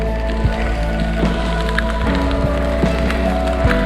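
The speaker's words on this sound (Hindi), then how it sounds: "गिर रहे हैं ओले" Hail falling on a mountain trail near Manali, a steady dense patter with occasional sharper hits, loud and close throughout.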